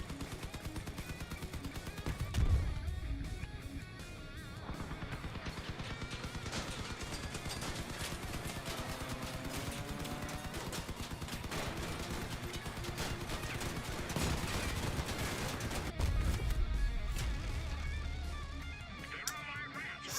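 Gunfire in a video game battle: shots crack out over a dense, continuous bed of combat noise, with louder bursts near 2.5 and 16 seconds and little pause between firing.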